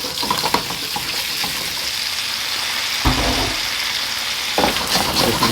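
Cornstarch-coated lobster pieces fry in a wok of hot oil for a Cantonese scallion-ginger stir-fry. The sizzle is a loud, steady hiss throughout, with surges of stronger crackling as pieces go in.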